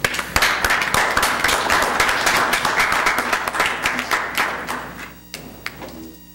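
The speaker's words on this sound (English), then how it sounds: "I want to give you guys a round of applause" Dense applause from a student government association meeting, many hands clapping loudly and steadily for about five seconds before thinning to a few scattered claps and fading out.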